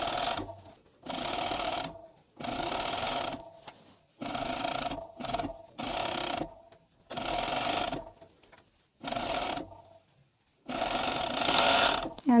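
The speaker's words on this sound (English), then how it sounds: "I'm going to attach the sleeves sewing flat" A sewing machine runs in six or seven steady bursts separated by short pauses while stitching t-shirt sleeves flat, close and clear, with no talking.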